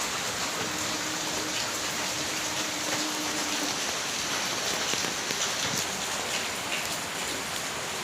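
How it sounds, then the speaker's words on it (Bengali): Steady rain pours down outside a house flooded knee-deep, a dense even hiss close by that fills the whole stretch with no clear thunderclap standing out. "আকাশ ডাকছে, এখনও বৃষ্টি পড়ছে।"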